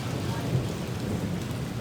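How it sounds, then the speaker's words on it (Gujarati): Steady, dense rain pours down without a break, a constant hiss with a low rumbling undertone. "આ તો વરસાદ લડી લેવાના જ મૂડમાં છે આજે."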